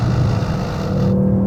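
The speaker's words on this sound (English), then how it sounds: "I've just turned up the exhaust there" Porsche Panamera Turbo S V8 exhaust with the exhaust mode turned up, a steady loud droning engine note under way on a road, continuous and close, with no talking.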